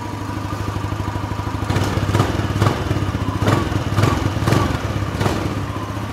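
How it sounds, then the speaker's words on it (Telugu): A Hero Xoom 160 maxi scooter engine starts and settles into a steady close idle, its even putter broken by a few rhythmic throttle blips, with no talking. "బండి ఎగ్జాస్ట్ నోట్ విందాం ఇప్పుడు."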